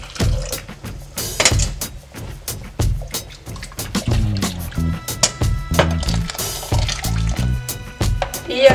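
Water poured from a rinsing glass into a cooking pot while making chicharrón in red sauce, giving a steady liquid splash and trickle close by, with some kitchen clatter around it.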